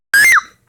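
A single short, shrill scream from a person, loud and close, cut off abruptly after less than half a second and followed by silence.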